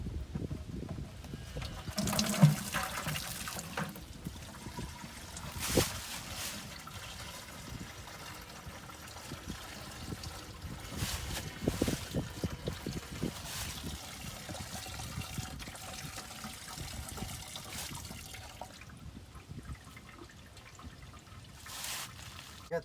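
Antifreeze drains from a Ford 5000 tractor, a faint, steady trickle and dribble of liquid heard up close for over twenty seconds, with a few soft knocks and no talk.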